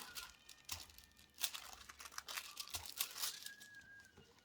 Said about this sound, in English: just press the foil down onto it